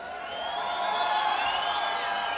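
A large crowd cheers and whoops at a fight event, a sustained, swelling roar heard from a distance that builds and holds without breaks.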